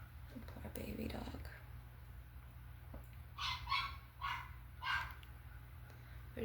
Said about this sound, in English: Poor baby dog.